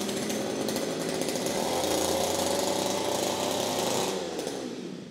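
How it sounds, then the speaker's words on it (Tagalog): An earth auger fitted with a 100 mm drill bit digs into the ground with a loud, steady engine roar and grinding, close and continuous before easing off slightly at the end. "Earth Auger with 100mm drill bit"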